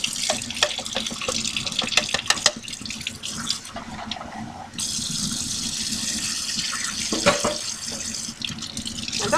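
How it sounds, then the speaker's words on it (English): Canned black beans are rinsed in a strainer under a running kitchen tap, a steady close splashing water stream with brief changes as the flow hits the beans, no talking. "So I rinse it until it's clear."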